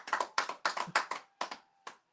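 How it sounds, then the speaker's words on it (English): A handful of separate hand claps in a podcast studio, six or so sharp, uneven bursts spaced across two seconds, close and moderately loud, with no voices. "A lot of clapping for me, huh?"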